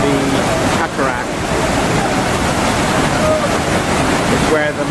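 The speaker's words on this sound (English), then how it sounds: "this is where the greatest concentration of water is pooling over the cataract" The roaring water of Iguazú Falls at the Devil's Throat, where the greatest volume of water tumbles over the cataract, makes a loud, constant broadband rush mixed with wind buffeting on the microphone.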